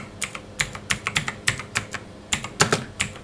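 Brisk typing on a computer keyboard, with sharp clustered key clicks in irregular bursts, close and clear with no talking.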